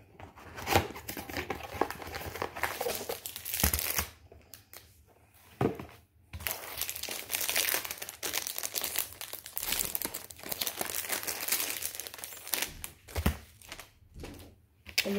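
Crinkly plastic packaging of a diamond painting kit being opened and handled up close, a steady run of loud crackling and rustling with brief pauses and sharper tearing bursts, no talking.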